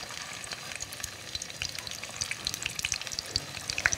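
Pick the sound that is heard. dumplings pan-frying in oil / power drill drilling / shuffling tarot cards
dumplings pan-frying in oil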